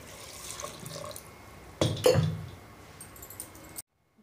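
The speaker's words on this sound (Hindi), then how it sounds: "इसमें हम एक से डेढ़ गिलास पानी डाल देंगे।" Water from a glass splashes into a cooking pot holding ridge gourd, chana dal, turmeric and salt; a close, steady pour of about two seconds, then it stops, with no talking.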